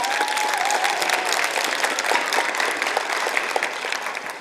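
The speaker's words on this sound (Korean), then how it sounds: "서로에게 박수 한번 부탁드리겠습니다" Sustained, dense applause fills the room at an Incheon political party joint speech rally, steady throughout with a few faint voices underneath.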